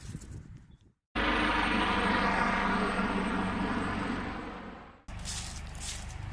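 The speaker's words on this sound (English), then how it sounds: "It looks like a helicopter just landed at the back of the UN school" Helicopter landing nearby behind a school, a loud steady rotor and engine roar that cuts in abruptly, holds for about four seconds, then fades slightly before stopping, with quieter background noise before and after.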